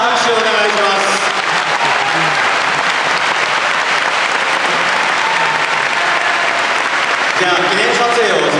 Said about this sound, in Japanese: どうぞ皆さん大きな拍手をお願いします。